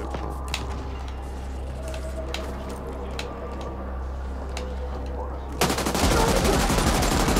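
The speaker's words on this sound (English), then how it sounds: "There's an automated rocket launcher or something." An automated rocket launcher fires in the video game The Ascent: scattered sharp bangs over a steady low rumble, then a sudden loud, dense roar of blasts near the end.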